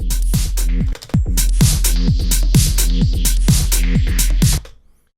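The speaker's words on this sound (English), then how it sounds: "So this sound is now really, really squished. It's super compressed" A sound pushed through an OTT multi-band compressor is heavily squashed, so it is dense and loud with a steady level. Rhythmic punchy hits repeat throughout and the sound cuts off abruptly just before the end.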